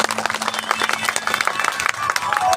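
An audience claps along at a devotional song performance, a busy, fairly loud spatter of hands that keeps going throughout while a voice carries on underneath.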